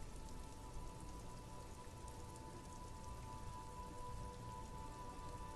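Steady rain ambience from the video game Disco Elysium, an even, dense patter of drops that continues without a break and without any voices.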